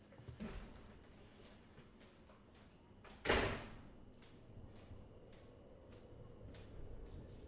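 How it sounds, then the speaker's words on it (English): A single loud door slam, sharp and close, rising well above a quiet background with a few faint knocks and clicks around it. "There's a door slam just punched as loud as my speech."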